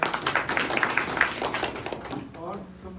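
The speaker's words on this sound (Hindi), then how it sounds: "ताली बजाओ" Schoolchildren clapping their hands together in a classroom, a brief burst of quick, fairly close claps that fades out after about two seconds, with voices mixed in.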